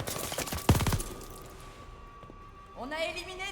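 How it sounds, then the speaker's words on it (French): A shotgun fires in the Call of Duty Vanguard video game: a loud close blast with rapid clattering reports, then a lingering tone, while game voices speak briefly at the end. "Fusil à pompe!"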